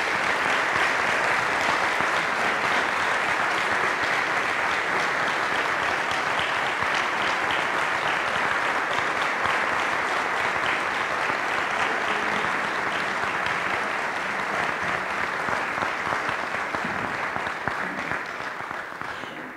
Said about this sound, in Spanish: les pido a todos los presentes que mediante un aplauso demostremos nuestro reconocimiento